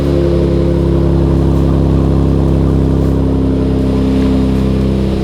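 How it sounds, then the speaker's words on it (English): A tuned 2023 Nissan Z, over 500 hp with full bolt-ons, idles loud and close with a deep, steady exhaust rumble, swelling slightly as the revs rise. "Let's get the exhaust tone back here"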